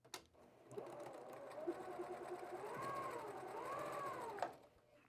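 A sewing machine runs steadily for several seconds, stitching quilt pieces with a 1/4 inch seam guide, its motor whirring with a rising and falling pitch, close and fairly quiet, with no talking over it.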